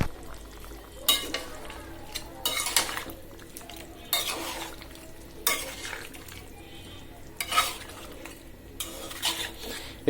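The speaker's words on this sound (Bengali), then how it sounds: "এই যে আমি মূলা আর আলুগুলো দিয়ে দিচ্ছি। মাশাল্লাহ, এগুলো সহ ভালোভাবে কষে যায়।" Radish and potato pieces stirred into beef on the bone in a pan, the spoon scraping and clattering against the pot in several bursts over a quiet low sizzle, close and fairly loud, with no talking.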